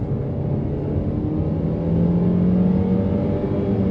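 A 2020 Renault Duster with a turbocharged petrol engine and CVT gearbox revs from inside the cabin, a steady low hum that climbs slightly in pitch and loudness midway, with no talking.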